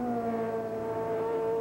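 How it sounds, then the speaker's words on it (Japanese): A 1987 Formula 3000 race car with a new Honda engine drones at a steady high pitch on the circuit, a continuous whining engine note that holds level without passes or gear changes. "ニューホンダの新しいエンジンですが、"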